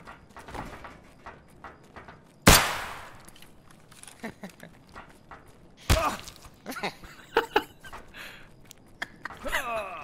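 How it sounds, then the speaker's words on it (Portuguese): Escape from Tarkov in-game gunfire: two sharp, loud shots about three seconds apart stand out against footsteps, movement and clatter, while players talk at intervals. "Vou dar um tiro, vocês vão."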